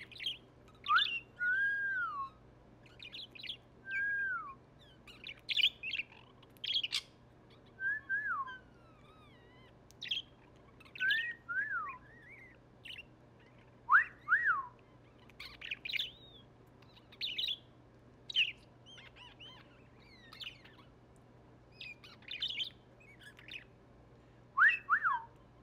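Pet bird lets out bursts of chirps and rising and falling whistles, close by and fairly quiet, scattered irregularly with short pauses over a faint steady hum.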